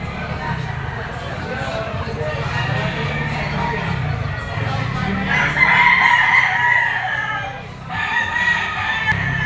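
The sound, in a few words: Kelso gamecock rooster crowing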